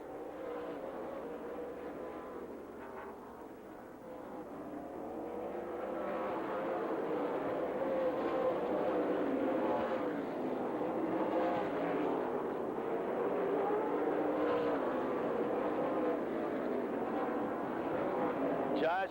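A pack of NASCAR RE/MAX Challenge Series stock cars at Rockford Speedway in Illinois roars steadily, the engine drone swelling and holding loud under continuous race commentary.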